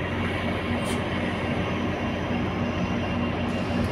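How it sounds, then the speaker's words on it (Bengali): A passenger train rolls along with a continuous low rumble and steady interior hum, heard from inside the carriage, with faint high squeaks near the start and end. "তাহলে আমরা ট্রেনে উঠলাম।"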